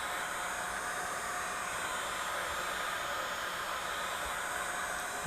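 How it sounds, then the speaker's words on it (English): A hair dryer blows hot air onto the back of a Samsung phone before a battery replacement, a constant close whooshing roar that holds steady the whole time without talk. "I think you could use a hair dryer."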